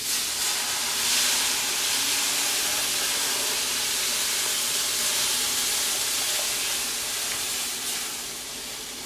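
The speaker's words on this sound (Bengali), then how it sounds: "এখন সুজির মধ্যে আমি 4 কাপ দুধ ঢেলে দিচ্ছি" Milk steadily poured into browned, toasted semolina in a hot pan for suji halwa, making a continuous broad hiss and sizzle that stays loud and even throughout, easing off slightly at the end.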